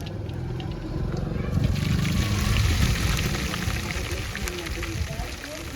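A steady sizzling hiss from a hot pan as ginger-garlic paste goes in while cooking masala khichdi, with voices in the background.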